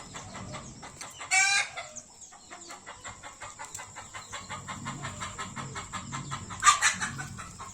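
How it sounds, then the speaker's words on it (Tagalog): Native chickens cluck steadily at a distance while a rooster crows loudly twice, once near the start and again toward the end. "Ingay ng mga manok, mga native ko."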